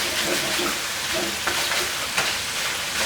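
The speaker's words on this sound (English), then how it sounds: "I've been searing the meat over here for about 5 minutes" Lamb riblets sear with curry powder in a wok, giving a loud, dense, unbroken sizzle up close, with faint stirring scrapes running through it.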